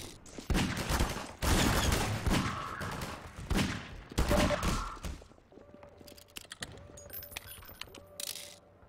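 Shotgun blasts in the video game Half-Life 2 sound as several loud, close bursts in quick succession, followed by quieter clinking and mechanical reload sounds.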